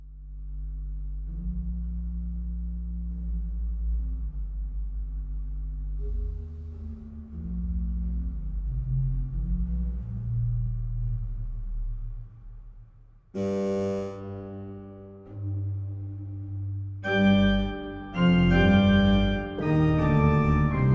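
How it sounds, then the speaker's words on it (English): Deep church organ pedal stops from the Orchestral Tools Tallinn sample library sound alone as sustained sub-bass notes, rumbling low and steady. Brighter, harmonically rich organ chords and stabs then burst in over the bass toward the end. "Let me quickly just check what the pedals alone do. Maybe that's a nice sub bass we can use there."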